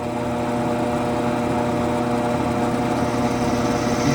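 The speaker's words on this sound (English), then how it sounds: "drill down a little, make sure we get a 1/4 inch in there" A power drill drilling into a wooden walking stick drones steadily and loudly at a constant pitch throughout, a continuous whine with no pauses and no talking.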